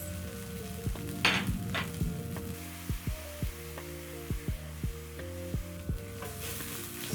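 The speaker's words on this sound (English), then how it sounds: "So you cook your garlic until fragrant. Then as my garlic cooks, I'm going to add my spices." Garlic and spices sizzle steadily in a pan for butter chicken, a soft, continuous frying hiss punctuated by a regular series of light taps and scrapes from stirring.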